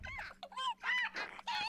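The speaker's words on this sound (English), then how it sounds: "these chickens are so damn loud" Chickens in The Sims 4 give a run of loud, close squawking honks in five or six bursts with brief gaps between them.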